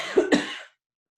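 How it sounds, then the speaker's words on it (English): Two quick, harsh coughs close up, one right after the other, then silence. "I do have a bit of a cough"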